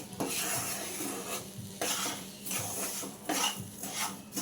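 Roasted semolina for upma stirred in ghee in a pan, rhythmic scraping strokes of a spoon against the pan repeating about once a second over a low sizzle, close and fairly quiet.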